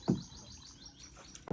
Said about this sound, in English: The symphony of the bird chirping, the soothing sound of the flowing river